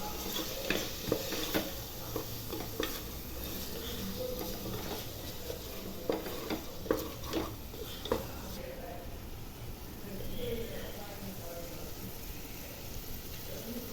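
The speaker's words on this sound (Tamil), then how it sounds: "எல்லாம் சேர்த்து நல்லா மிக்ஸ் பண்ணி விட்டுக்கலாம்" Biryani masala with yogurt for quail biryani being stirred in a pan: faint, scattered spoon scrapes and taps over a quiet, low sizzle, with a muffled voice faintly in the background.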